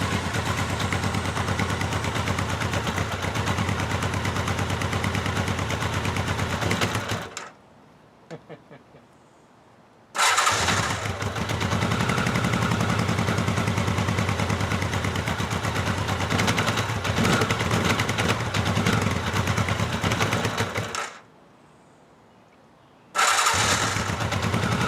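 A 1983 Honda Nighthawk 650 motorcycle engine revs loudly and roughly up close, then cuts out into near silence twice before firing back up, the rumble ragged and uneven.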